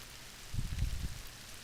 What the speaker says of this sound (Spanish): Un día de lluvia.